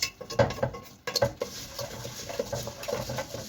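Vermicelli in oil stirred in a pot, heard as repeated close scraping and clinking of a utensil against the metal over a faint continuous frying patter.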